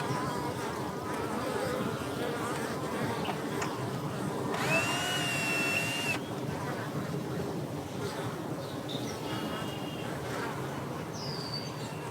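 Steady buzzing of a caught bee swarm fills the clip, a dense droning hum of many bees close by, with a brief higher whine partway through.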